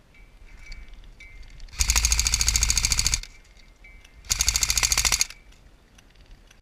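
Two rapid bursts of airsoft gunfire, each a fast rattling stream of shots lasting about a second, with a quiet pause between.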